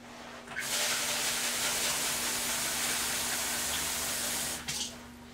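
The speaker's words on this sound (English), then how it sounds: "I'm going to add some water to it." Water pours in a steady, hissing stream into a bowl of rice for several seconds, starting and stopping abruptly, close by.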